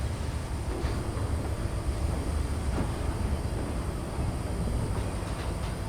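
Steady low rumble of a diesel train in Train Simulator 2016, with the distant hum of the engine under continuous wheel and suspension noise, even and constant throughout with no voices.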